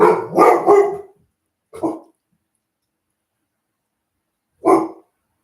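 A dog barks a few times up close and loud: a quick cluster of barks, then a single bark, a long pause and one more bark.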